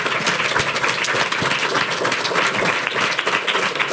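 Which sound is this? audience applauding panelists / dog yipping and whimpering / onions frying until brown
audience applauding panelists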